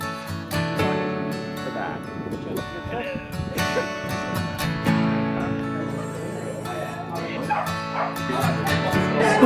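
Several dogs bark and yip at an outdoor Dog Day dog show event, with busy overlapping barks and whimpers, loud and steady under mixed crowd noise and other sounds.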